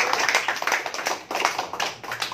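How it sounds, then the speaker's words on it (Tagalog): An indoor audience at a financial literacy seminar gives a short burst of steady applause, dense and moderately loud, without clear speech. "Ay, mahina ang palakpak! Palakpak!"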